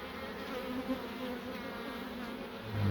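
Honey bees buzzing at an open hive during a split, a dense steady drone of many insects close by with no talk over it.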